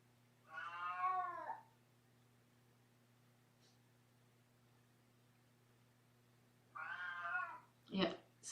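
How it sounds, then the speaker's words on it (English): A cat on steroid medication meows for food, two drawn-out close meows several seconds apart in an otherwise quiet room, followed by a couple of brief knocks. "It's like every morning Dorian's picked up with the meowing since he's been on a steroid"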